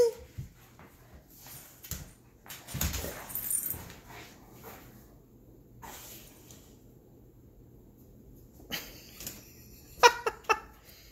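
A pet dog whimpers and yips indoors, with soft intermittent whines and a few sharp, brief clatters and taps scattered across the quiet background, faint and close.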